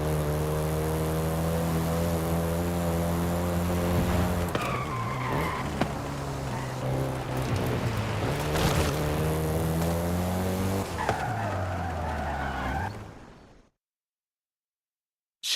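A Volkswagen Golf GTI in the Forza Horizon 5 racing game revs hard through rising gear changes, its engine note climbing and dropping with tire squeal, loud and close, before cutting off to silence.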